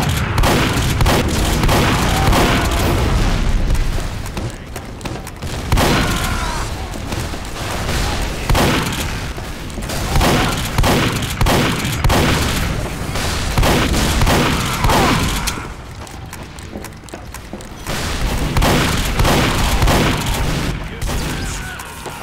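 Dense, loud gunfire from the Team Fortress 2 video game, played as the Heavy character, pours out in rapid volleys and booming bursts with short lulls, filling the whole stretch.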